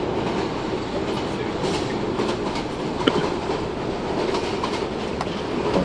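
A steady, loud subway train rumble with rhythmic clickety-clack from the wheels, from the OpenBVE simulator with an R160A M train on a New York local run, continuous and unbroken with no talk.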